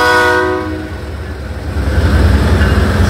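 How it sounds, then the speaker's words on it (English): An Iowa Interstate freight train's horn sounds loudly at the start in Des Moines, Iowa, then the heavy rumble of the passing train fills the rest, close and continuous. "Sounds like a train."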